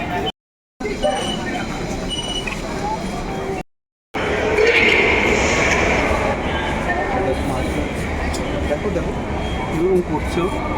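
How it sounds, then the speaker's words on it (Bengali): A metro train rumbles at Howrah metro station in an enclosed, echoing space, a steady loud roar with wheel noise and two brief dropouts, with voices talking over it. "এটা হচ্ছে হাওড়া মেট্রো স্টেশনটার নাম"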